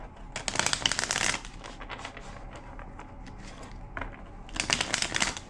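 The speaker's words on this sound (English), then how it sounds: "Two more shuffles." A deck of tarot cards is shuffled in two rapid riffling bursts, one near the start and one at the end, with a quieter, sparse handling of the cards in between and no voice.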